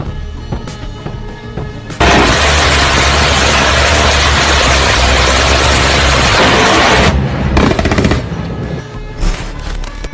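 A Profense PF M134 minigun fires one continuous loud burst lasting about five seconds, a dense roaring buzz. Shorter stuttering bursts and quieter gaps come before and after it.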